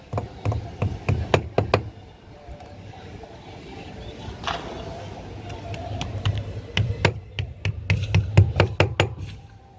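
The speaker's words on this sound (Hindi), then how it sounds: "प्लास्टिक की गिट होगा उसमें, सबको ठोक लो पहले" Plastic wall plugs hammered into drilled holes while mounting a dish antenna: bursts of sharp, close knocks in quick rhythmic series, a quieter pause between groups, then another rapid run of blows.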